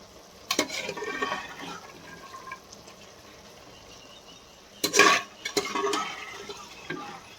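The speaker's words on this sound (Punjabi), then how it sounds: "ਹੁਣ ਆਪਾਂ ਪਾਲਕ ਦੇ ਵਿੱਚ ਛੋਲੇ ਦੀ ਦਾਲ ਪਾ ਦੇਣੀ ਹੈ" Chana dal tipped into spinach cooking in a pot gives quiet splashing and stirring sounds in two bursts, with softer liquid movement between them and no talking.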